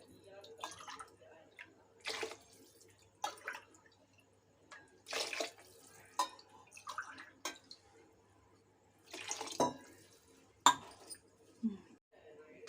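Water poured into a pot of basmati rice for mushroom biryani, with intermittent splashing pours and clinks of a measuring glass against the pot, broken by quiet gaps across several seconds.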